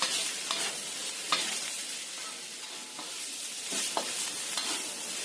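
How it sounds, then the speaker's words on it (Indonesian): Eggs are stirred into a frying mixture in a pan, with a continuous bright sizzle and intermittent scraping strokes of a spatula against the pan, close and steady with no talking. "aduk bareng. Masukkan telurnya."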